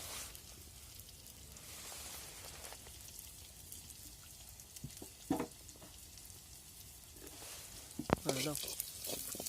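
Spices for red amaranth greens with dried fish sizzle steadily in a pan, a soft crackling frying hiss with brief stirring clatters, while voices talk over it.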